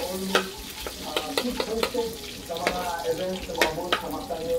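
Garlic sautéed in a pan gives a soft sizzle under repeated knocks and scrapes of a spatula, close and moderately loud, with faint background voices.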